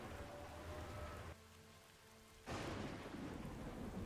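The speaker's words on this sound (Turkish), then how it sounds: "Şimşek çakmış buraya. Yıldırım düşmüş." A lightning strike and thunderclap in The Battle for Middle-earth: a loud rumbling roar over rain, a brief quieter gap, then a sudden heavy crack as the thunder returns, with rain continuing throughout.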